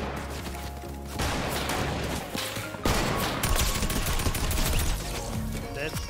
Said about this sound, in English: Oh yeah, I hear gunshots.